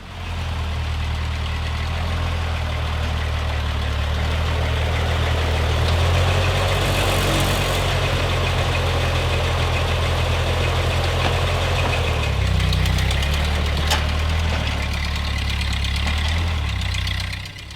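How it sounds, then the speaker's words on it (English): A tractor engine runs steadily at a low idle with a deep, even throb and a slight knocking texture, close by and unbroken. "This tractor was a big purchase"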